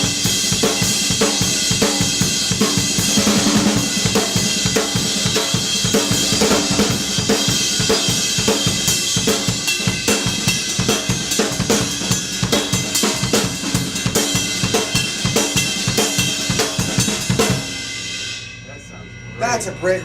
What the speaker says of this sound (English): this is the ride right here. I love the ride.